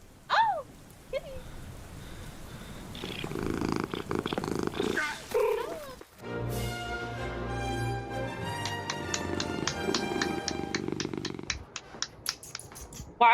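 A pet cat purrs steadily and close up, a soft rhythmic rumble, with short bursts of speech and clicking noises around it.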